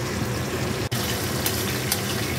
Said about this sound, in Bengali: তেল গরম হয়ে গেছে, কড়াইতে মাছগুলো ভেজে নেব।